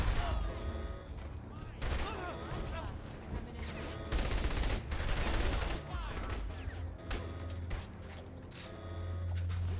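Gunfire in the open-world game Saints Row: The Third crackles in scattered volleys and rapid bursts, some close and some farther off, with players talking over the shooting.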